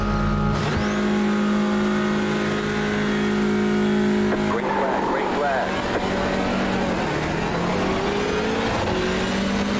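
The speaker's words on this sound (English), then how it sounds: "Jaden slow off the line." In a racing video game, Hyundai Elantra TCR race cars launch at the start at Montreal's Circuit Gilles Villeneuve, their engines droning and revving in layered whines, loud and continuous, while someone talks over them.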